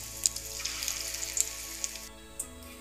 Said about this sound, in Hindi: इसको अच्छे से जो है डीप फ्राई कर लेंगे